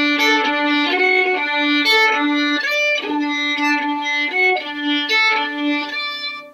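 A viola plays the opening measures of Bach's sixth cello suite: a close, bowed solo line with a repeated low open-string pedal note alternating with quick higher figures in a lively, steady rhythm.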